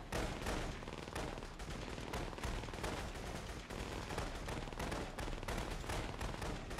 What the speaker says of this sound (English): Yep, it's a firefight.